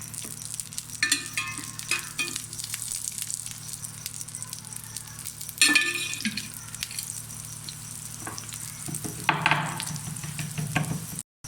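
A peas and cheese stuffed paratha fries in oil on a hot tawa with a continuous close sizzle, broken by sharp bursts and scraping clatters of the spatula.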